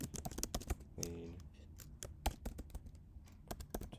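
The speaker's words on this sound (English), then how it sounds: "I hope the typing isn't too loud." Rapid, irregular clicking of computer keys being typed on nearby, with short bursts and pauses between keystrokes.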